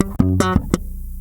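Bass guitar slap riff in G, thumb slap and pluck on G and its octave followed by ghost notes, a few sharp percussive plucked notes over roughly a second, played alone and close.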